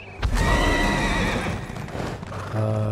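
A horse in Elder Scrolls Online gives a loud, close whinny that rises and then falls away over a couple of seconds, followed by a brief snort and low clip-clop at the end, with no talking.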